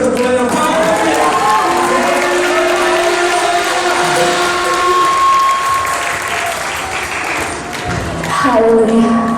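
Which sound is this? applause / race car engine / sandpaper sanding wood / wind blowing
applause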